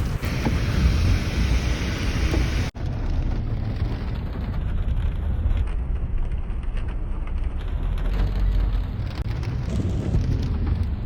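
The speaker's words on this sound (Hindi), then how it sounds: "मैं बाहर निकली हूँ और थोड़ी थोड़ी बारिश की जो बूंदें हैं वो शुरू हो गई हैं" Steady broadband patter of light rain falling outdoors during a rainy season spell, continuous and fairly close with a brief dropout near the start, no voices.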